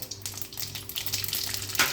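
Cumin seeds sizzle in hot oil in a kadhai for spinach rice tempering: a close, continuous frying hiss with scattered crackles and a brief louder spatter near the end, no one talking.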